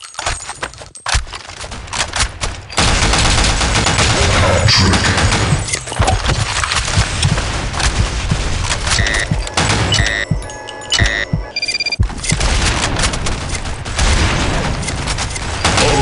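Rapid bursts of drum shotgun fire ring out in the online shooter BlackShot, loud repeated blasts over a busy game soundscape with brief quieter gaps.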